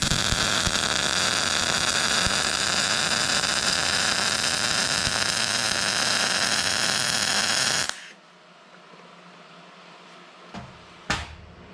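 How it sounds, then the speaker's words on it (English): A Decapower XTRAMIG MIG welder runs a steady, loud crackling hiss for about eight seconds, then cuts off abruptly, leaving a quiet hum with a couple of brief faint clicks. "So I'm going to turn the welder up more."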